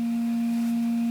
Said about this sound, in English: You hear that sine wave? That's coming out of the audio from the direct one.